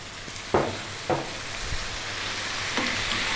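Fresh tomatoes frying and being stirred in a pan over fairly lively heat for an Indian potato curry, with a low steady sizzle and a few louder stirring scrapes, no talking.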